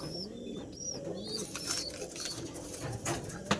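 Pet pigeons coo in soft, repeated low warbling calls close by, with faint chirps and a little background noise over the few seconds.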